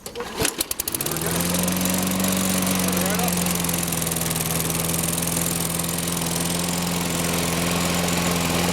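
A Toro Recycler Model 20016 lawn mower, primed in cold weather, pull-starts with a brief sputter and then settles into a loud, steady running drone with a constant engine hum and no talking.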